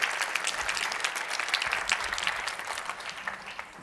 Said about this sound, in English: okay, you can clap, it's okay.